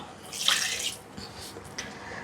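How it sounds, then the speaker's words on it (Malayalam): A cup of water is poured into a mixer grinder jar to rinse it, giving a short splashing burst followed by a fainter trickle, close and alone. "1 കപ്പ് വെള്ളം ഞാൻ മിക്സിയുടെ ജാറിൽ ഒഴിച്ചിട്ട് അതും കൂടി ഒന്ന് കഴുകിയെടുക്കുന്നു"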